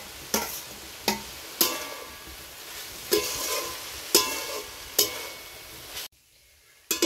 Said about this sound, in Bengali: শাপলাটা ভাজা প্রায় হয়ে গেছে, এবার একটু নারকেলটা দিয়ে দেবো।